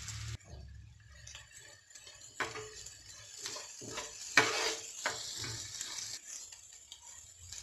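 Cumin seeds fry in a pan while they are stirred, giving a soft, steady sizzle with occasional scraping and clinks of a spoon against the pan.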